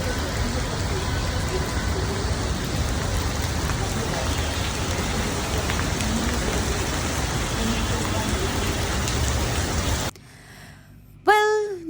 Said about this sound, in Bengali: বৃষ্টির সাউন্ডটা আপনারা জাস্ট একটু শুনে রাখবেন